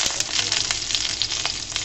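Chopped garlic frying in hot oil, a close, loud, even sizzle with small crackling pops scattered throughout.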